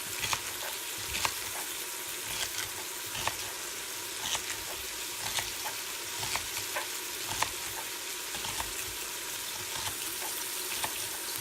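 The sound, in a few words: onions and garlic sizzling in butter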